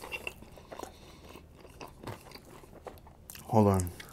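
Crunchy biting and chewing into a Chipotle steak burrito, close to the microphone, with a loud crunch near the end after a stretch of quieter mouth sounds and murmuring.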